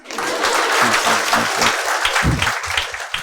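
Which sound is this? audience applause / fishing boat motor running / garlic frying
audience applause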